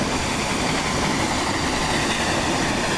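A Rajdhani Express in the Train Simulator game rumbles steadily along the rails, with a loud, continuous rolling roar and faint wheel clatter, and no voices over it.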